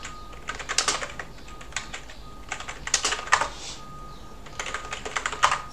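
Rapid bursts of keystrokes on a computer keyboard during a Linux install, typed in irregular clusters with short pauses, close and fairly quiet, with no talking.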